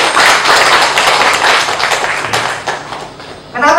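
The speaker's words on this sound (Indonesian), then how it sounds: "Tepuk tangan dulu semuanya" Indonesian event audience applauding loudly after a prompt from the host, a dense wash of hand claps filling the clip before tapering near the end.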